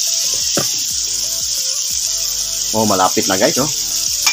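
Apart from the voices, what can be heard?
flour-coated chicken frying in oil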